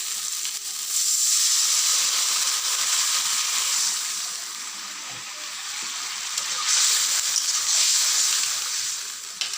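Water poured onto fried spice masala for an egg dish hisses and sizzles loudly and continuously in the pan, swelling slightly at times, with no voices.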